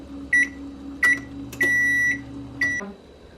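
Oven control panel beeping as the temperature is set to 250: four sharp electronic beeps spaced about a second apart, one held longer than the others, close and clear over a low hum.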